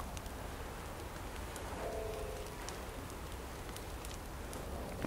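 Steady rain falls in the survival video game The Forest, a soft continuous hiss with scattered droplet taps and no voices.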